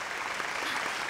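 An audience applauds a child's Miao dance performance in a brief, dense burst of clapping.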